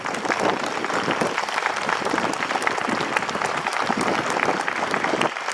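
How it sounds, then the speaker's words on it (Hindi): A large crowd at a school event claps continuously, dense and steady applause filling the whole stretch without pause. "ये तालियां अपने बेटों के लिए, ये तालियां अपने बेटियों के लिए"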